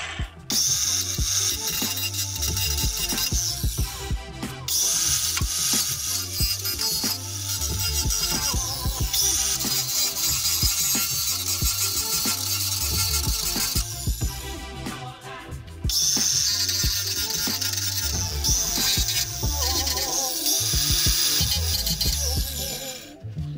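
Angle grinder knocking down sharp burrs around drilled holes in a metal tailgate table on a 2014 Jeep Wrangler, a loud continuous harsh grinding roar that dips briefly a few times as the tool lifts off and bites again.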